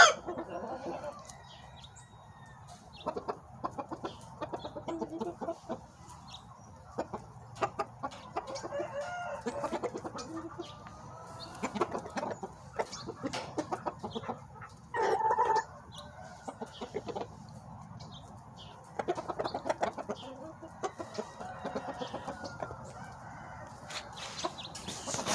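Chickens cluck and crow on and off over a long stretch, with scattered bursts of calls, some loud and close, against a low background of rustling and farmyard noise.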